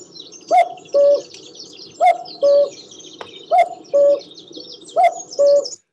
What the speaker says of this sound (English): So, of course, it is the common cuckoo.